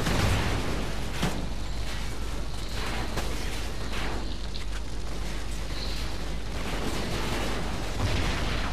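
Machine gun fire in the video game Call of Duty Ghosts, a dense, steady wall of rattling automatic fire and booming impacts that stays loud and unbroken throughout.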